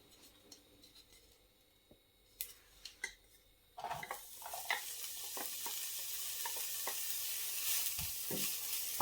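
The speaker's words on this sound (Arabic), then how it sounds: "كنجيبوا واحد المقلاة كنوضعوا فيها واحد الكميه من الزيت وكنخليوها حتى كتسخن، عاد من بعد كنضيفوا ليها البوارو اللي كنا قطعناه" Chopped leeks go into hot oil in a frying pan. A few quiet clicks and taps come first, then a sudden loud, continuous sizzle with occasional stirring scrapes, close by and without speech.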